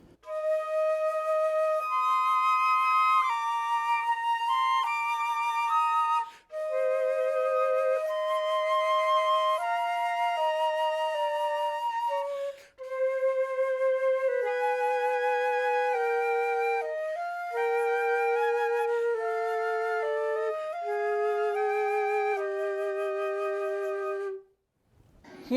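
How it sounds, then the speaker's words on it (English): Two flutes play a familiar tune together in smooth, sustained melodic phrases, clear and close, with brief pauses between lines and no talking. "Here's 2 flute players playing a tune you'll probably recognize."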